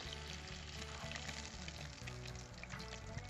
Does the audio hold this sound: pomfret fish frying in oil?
yes